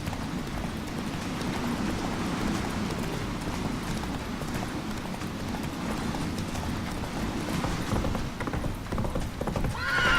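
Roach, the horse in The Witcher 3, gallops with a rapid rhythmic clip-clop of hooves that continues steadily throughout over a soft background rumble.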